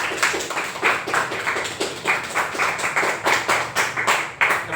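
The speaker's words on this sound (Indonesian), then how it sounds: "Tepuk tangan untuk Yuka." A small classroom group claps for a student during an Indonesian-language lesson, a brief burst of quick, uneven hand claps from several people, fairly close and steady throughout with no talking over it.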